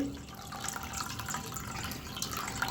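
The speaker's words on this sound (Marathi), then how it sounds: "अशा प्रकारे मी पूर्ण डाळ धुवून घेते" Urad dal rinsed by hand in water, a steady close sloshing and dripping wash with faint trickles throughout, no voices.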